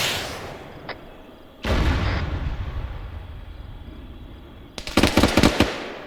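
A self-propelled gun fires in a military video game, a heavy blast followed by a long rumbling decay, then a rapid cluster of sharp cracking reports near the end.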